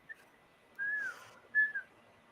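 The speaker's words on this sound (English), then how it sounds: "And who's whistling there?" Two short melodic whistles, a rising-falling tone then a briefer one, clear against a quiet background.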